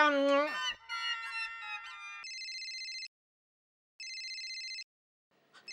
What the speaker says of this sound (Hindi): प्लीज फोन उठाइए।